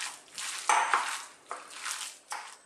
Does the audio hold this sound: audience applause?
no